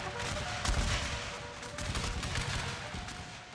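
Troops in a strategy game of the Great Britain Unequal Treaties era fire at a broken enemy force, a dense continuous crackle of rifle volleys and gunfire rolling on without pause.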